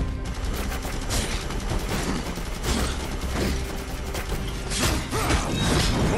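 Rapid gunfire and clanking weapon mechanisms from combat in Darksiders Genesis, a dense, loud barrage running continuously with no talking.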